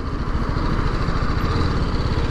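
A TVS Apache RR310 motorcycle engine drones loud and steady on a test ride, a continuous close mechanical rumble with no speech.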